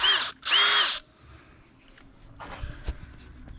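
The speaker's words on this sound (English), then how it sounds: "So I will take my drill and start" Cordless power drill boring holes into a jet ski hull for a fish finder transducer install, two short whining bursts close up, followed by quiet handling clatter and taps.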